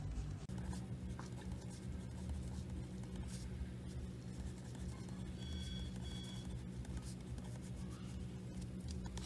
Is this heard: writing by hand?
yes